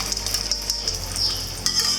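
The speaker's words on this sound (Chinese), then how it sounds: "接着倒入1大勺油，油温升高后，倒入蛋液，" Beaten egg is poured into a wok of hot oil and stirred lightly with chopsticks for silver-fish egg fried rice, giving a soft, faint sizzle with a few light clicks and scrapes.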